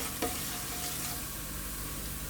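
Cumin seeds sizzling in hot oil for an Indian potato curry, a steady soft crackle close by with one short sharp clink near the start, no talk.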